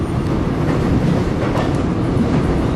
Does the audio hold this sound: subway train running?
yes